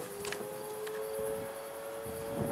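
A Federal Signal Model 2T civil defense siren sounds in Jamestown, North Dakota, as a faint, distant, steady two-tone wail that holds level under outdoor background noise.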